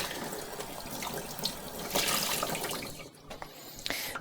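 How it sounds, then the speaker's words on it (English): Water from a tap rinsing cleaner off a saw blade and its teeth, a close steady splashing flow that shifts as the blade moves under it, briefly quieter near the end. "then it's just a matter of rinsing it off"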